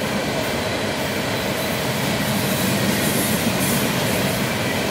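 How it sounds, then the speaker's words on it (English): An eastbound BNSF freight oil train on CSX track rolls past close by with a steady, loud rumble and rattling wheels, continuous and unbroken throughout. "This is another oil train."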